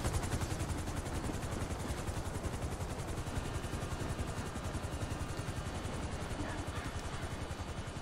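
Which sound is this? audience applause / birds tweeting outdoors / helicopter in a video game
helicopter in a video game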